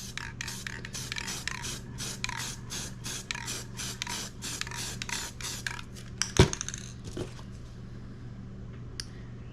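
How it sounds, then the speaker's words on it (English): A rapid series of short hissing spray paint can bursts in steady rhythm, close and moderately loud, followed by a sharp knock and a few scattered sprays. "Spray down."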